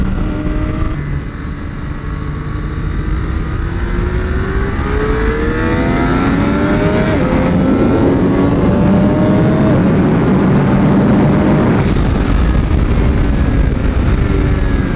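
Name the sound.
Triumph Daytona 765 Moto2 motorcycle engine on race track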